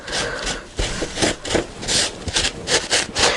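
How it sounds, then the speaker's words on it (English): A piece of tissue rubs over paper on a mixed media notebook to lift off excess medium, a close, dry, brisk scrubbing repeated in uneven strokes with no talk. "I would just get a piece of tissue to rub off your excess"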